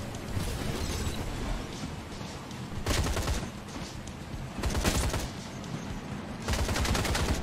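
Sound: gunfire from shooting enemies in Atomic Heart VR video game

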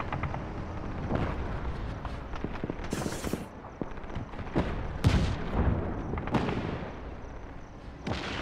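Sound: tank cannon firing in the Just Cause video game

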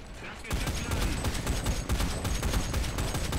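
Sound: Type 94 flak tank firing, War Thunder video game

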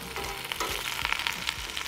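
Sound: garlic and vegetables frying in a pan

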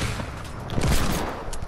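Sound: heavy sniper rifle firing in a video game

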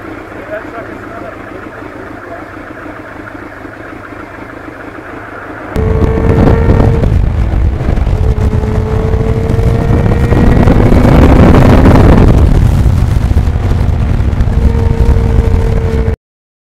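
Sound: 1989 Kawasaki GPX750R motorcycle riding

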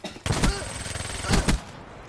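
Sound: rapid-fire gun shooting in the video game Black Ops 3

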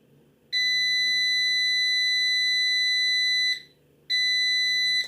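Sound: beep signal while testing a transistor

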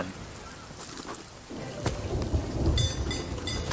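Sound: thunderstorm in the video game Sea of Thieves

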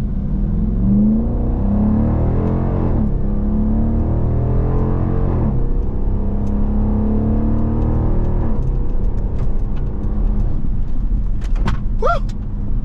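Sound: Dodge Durango R/T V8 accelerating in sport mode

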